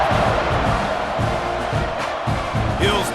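Stadium crowd in the EA College Football 26 video game during a Texas A&M vs Mississippi State kickoff, a dense roar of cheering fans rising and swelling, with a commentator talking over it.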